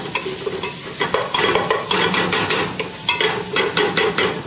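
A spoon stirs mussel broth with a pinch of saffron in a pot, loud close rhythmic scraping and clinking strokes repeating over a bubbling sizzle.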